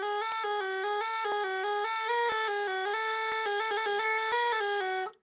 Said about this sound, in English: a category of melodies which they called the chromatic genus, where they would stack semitones together